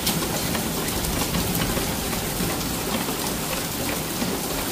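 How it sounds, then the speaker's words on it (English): Hail and heavy rain pour down during a thunderstorm in Cheltenham, England, a dense continuous hiss and patter filling every moment close to the doorway, with no voices heard. "Just film the hail."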